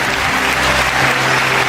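Sustained audience applause fills a church auditorium during a worship service, a steady dense roar of many hands clapping, loud and close, with no talking over it.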